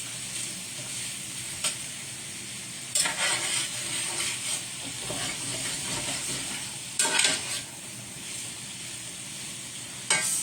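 Potatoes fry in butter in a pan, a steady close sizzle and hiss with brief louder bursts of crackle as the pieces are stirred.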